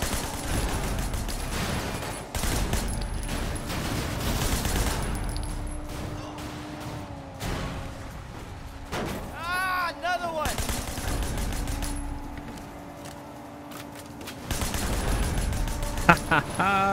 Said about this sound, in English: Also, I forgot you can shoot the tires.